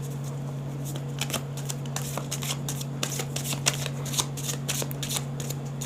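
A deck of tarot cards shuffled by hand, giving a steady run of crisp, close card flicks and riffles over a constant low electrical hum, with no talking.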